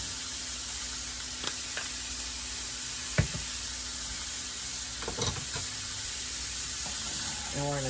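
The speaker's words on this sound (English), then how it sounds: "I'm just going to add the meat to the cast iron." Meat sizzles steadily in a cast iron pan, a soft constant frying hiss with a few scattered clinks and scrapes of a utensil, fairly faint, with no voices over it.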